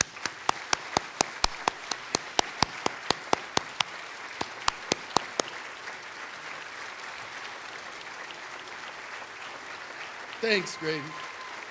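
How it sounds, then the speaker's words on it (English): Crisp, evenly spaced handclaps ring out for Grady at a university Hall of Fame wrestling induction, fading after a few seconds, followed by quiet room tone and a brief spoken voice near the end. "Would you join me in giving Grady a much-deserved round of applause?"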